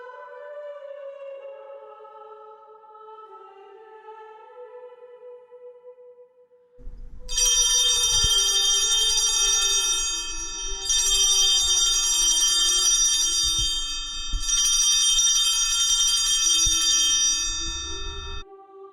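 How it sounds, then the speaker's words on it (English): A soft tone fades out, then bright, shimmering church altar bells ring loudly in three sustained bursts with brief pauses between them, during the incensation at a service. "The ringing of the bells is done in unison with the incensation by the thurifer."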